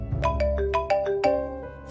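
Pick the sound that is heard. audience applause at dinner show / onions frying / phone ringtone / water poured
phone ringtone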